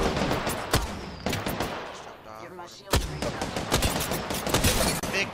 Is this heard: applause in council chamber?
no